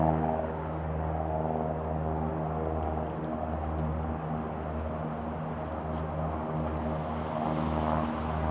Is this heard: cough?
no